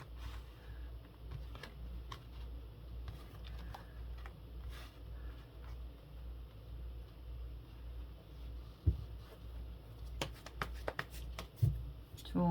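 Tarot cards being shuffled in soft, irregular riffles and taps under a low steady hum, with a few sharper card snaps near the end; no talk over it.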